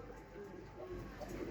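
Pigeon cooing, soft and low in pitch, faint and close in a bird loft with a steady hum beneath it.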